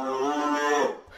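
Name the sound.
downloaded cow moo sound sample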